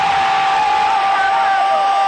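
Botafogo football supporters cheering a goal in a stadium, a loud, sustained roar of the crowd with whoops and shouts, broad and continuous throughout without a break.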